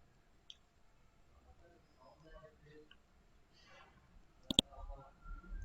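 Computer mouse clicking on a computer, a quick sharp double click near the end, faint and close, with talk around it.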